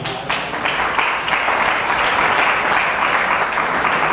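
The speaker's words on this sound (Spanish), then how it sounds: "Denle un aplauso al Señor" Spanish-speaking congregation at a church retreat in El Salvador breaks into dense, loud applause, steady and close throughout.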